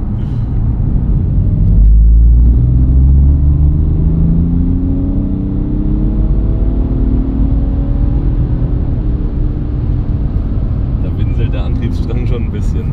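BMW F30 330d diesel engine accelerating hard under overboost, a loud continuous rumbling drone rising in pitch through the gears, heard from inside the car.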